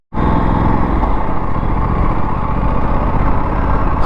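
Aprilia RS 457 sport motorcycle running, a loud continuous engine and exhaust drone at steady revs, close up with no talk over it.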